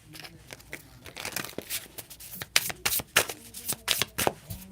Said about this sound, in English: I think I shuffled the wrong cards back in.